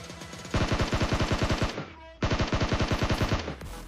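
Rapid bursts of automatic gunfire come from a container in a battle royale video game: a long loud string of evenly spaced shots, a brief pause, then another sustained burst, up close.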